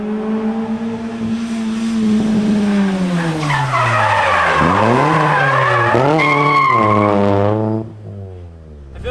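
A car performs a manji drift, swinging side to side as its tires skid and squeal loudly and continuously while the engine revs rise and fall with each swing, easing off near the end.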